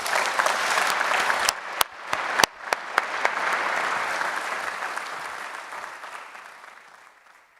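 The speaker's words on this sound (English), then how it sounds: "Ladies and gentlemen, please give our panel a big round of applause." Warm audience applause for a panel at an economic forum, a full round of clapping with a few sharp standout claps early, fading gradually toward the end.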